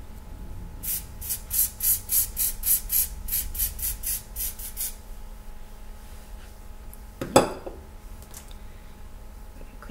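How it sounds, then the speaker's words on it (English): Aerosol hairspray sprayed onto skin in a series of about a dozen short rhythmic hissing bursts, close and fairly loud, followed by quiet room sound and a single sharp knock. "So now we're going to hairspray this orange."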